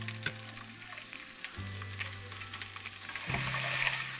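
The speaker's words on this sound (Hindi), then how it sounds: "इसके अंदर हम अदरक लहसुन का पेस्ट डालेंगे" Ginger garlic paste fries in a pan for chicken salan, giving a soft, continuous sizzle with occasional stirring scrapes under background music.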